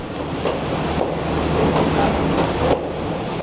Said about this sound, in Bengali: স্টেশনে এসে দাঁড়ালো সেই প্রতীক্ষিত ট্রেনটা